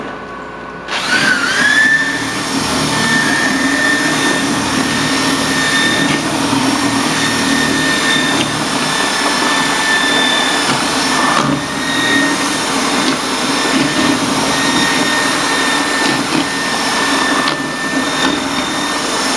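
A mechanical stirrer churns a soap mixture in a lab, its motor starting with a jump and then holding a loud, steady whine and hum with faint tonal overtones for the rest of the stretch.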